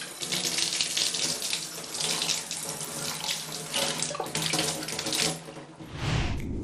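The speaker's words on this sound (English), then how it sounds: "you're going to need to rinse them. If you have a sink-mounted sprayer," Water from a sink-mounted sprayer rinses wine bottles, a strong close hiss of running water that swells and shifts as the bottles are moved, then briefly changes near the end.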